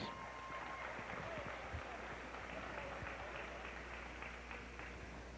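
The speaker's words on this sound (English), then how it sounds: "Let's give all these All-Stars a big round of applause" Audience applause at a Lions Club basketball All-Star Game honoring the all-star players, a steady dense wash of clapping sustained throughout at moderate distance with a faint background tone.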